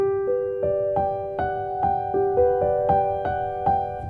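A keyboard plays a repeated pattern of struck notes, about a dozen in quick succession over a held tone, each attack decaying before the next.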